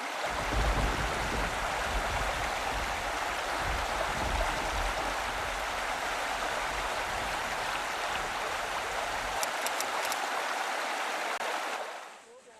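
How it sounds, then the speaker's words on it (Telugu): Floodwater pours into the Sriram Sagar project on the Godavari river with a loud, steady rushing roar throughout as the reservoir nears full level. The roar drops away abruptly near the end. "భారీగా వరద నీరు రావడంతో శ్రీరామ్ సాగర్ ప్రాజెక్టు నిండుకుండలా తొణికిసలాడుతోంది"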